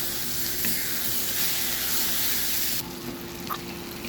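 Washed dried fish stirred in a pan as it cooks into a spicy karuvadu thokku, giving a steady close sizzle and hiss that turns slightly softer partway through.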